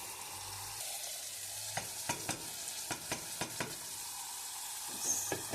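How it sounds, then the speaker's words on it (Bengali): Tomatoes and potatoes tossed together into a hot pan sizzle steadily, with a series of sharp clicks and scrapes from stirring scattered throughout and a louder burst of frying near the end. "টমেটো দিচ্ছি আর টমেটো আলু আমি একসাথে দিয়ে নিচ্ছি"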